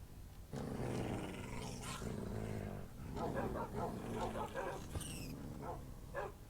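Wolves in the video game Minecraft, with growls, yips and short barks scattered across the clip, close and fairly clear, heard over a low game background.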